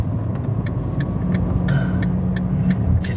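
Small three-cylinder car engine of about 70 horsepower running at a steady pace from inside the cabin, a low continuous drone with a slight swell in loudness partway through, no voices.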